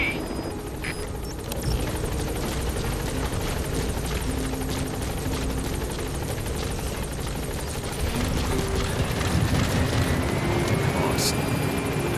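Support helicopter in Metal Gear Solid V: The Phantom Pain arriving at a landing zone, a loud continuous rotor chop and turbine whine nearby that swells slightly near the end, with a voice speaking over it.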